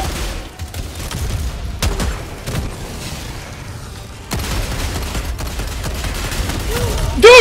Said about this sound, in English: a rocket just flies off screen right into my face